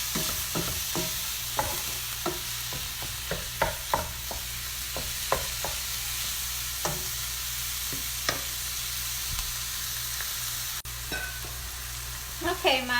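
Hamburger meat browns over high heat in a pan, sizzling steadily while a utensil scrapes and stirs in repeated short strokes close by.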